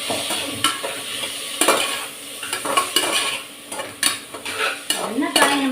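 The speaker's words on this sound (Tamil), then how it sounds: "இப்போ நான் காய்கறிகளை போட்டு வதக்கிடுறேன்." Vegetables sauté in hot oil and coconut milk in a pan for coconut milk rice, with steady sizzling broken by repeated scraping and clinking stirs of a utensil against the pan.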